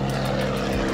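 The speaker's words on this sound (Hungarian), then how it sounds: "Vettetek egy nagyobb drónt?" A larger drone flies low over a race track during a lap-timing session, giving a loud, steady propeller drone that stays close for the whole brief moment.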